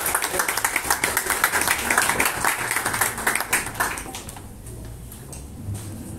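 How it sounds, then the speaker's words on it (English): Audience applause at an open banking panel event as panelists join on stage, a steady loud patter of clapping from a crowd that thins and fades toward the end. "Please, round of applause."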